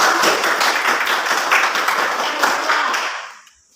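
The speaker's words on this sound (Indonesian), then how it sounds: "tepuk tangan juga untuk kelompok 2 yang terpilih." Schoolchildren in a classroom applaud a chosen group, a thick burst of many small hands clapping at once that holds steady and then tapers off into quiet at the end.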